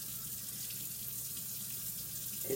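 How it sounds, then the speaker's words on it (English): Steady water flows from a kitchen tap as a fish is rinsed under it, a continuous hiss and splash throughout with no speech. "I'm going to rinse it again."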